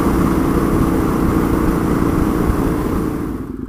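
A Husqvarna Nuda 900R motorcycle climbs a small hill, its engine droning loud and steady up close before the sound thins and falls away slightly near the end.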